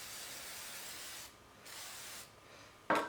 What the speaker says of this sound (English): spray with a metal protector